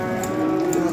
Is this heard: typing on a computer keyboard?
no